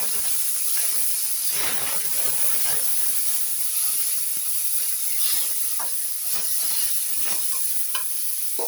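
Onion paste hisses and steams as it hits hot oil with cloves tempered in it, a steady bright sizzle with scattered crackles and stirring scrapes, close and continuous with no talk.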